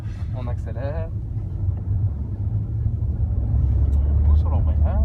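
A car engine rumbles and builds as the car speeds up during a driving safety course. The low drone grows louder toward the end while an instructor speaks over it.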